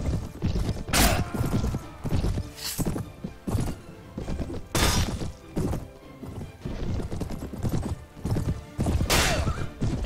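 Horses in the video game Mount & Blade during a battle, with repeated loud bursts of galloping hoof clatter, several whinnies and mechanical thuds in between, and no talking.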